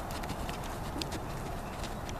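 A gaited horse walks under a rider, its hooves clip-clopping faintly in an even rhythm beneath a steady broad noise, with no talking in the clip.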